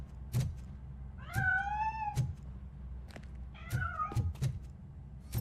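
A cat meows twice in a video game, long drawn-out rising calls, between a few soft knocks and thumps against a quiet background.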